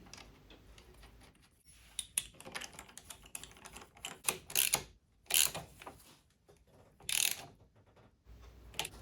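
A ratchet wrench tightens the clutch centre nut on a Triumph 750 twin gearbox in a workshop, giving bursts of quick close clicking separated by short pauses, fairly quiet overall.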